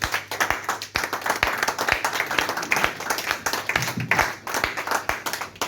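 A church congregation at a French-language service claps steadily and warmly for several seconds, a dense crowd applause with individual claps standing out near the front.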